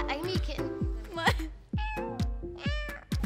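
A person imitates a cat, giving a quick series of high, expressive meows, some short and some drawn out, close and fairly loud, with overlapping voices like several people joining in.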